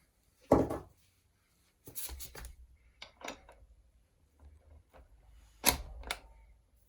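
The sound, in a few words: ratchet tightening a bolt on a Cannondale bicycle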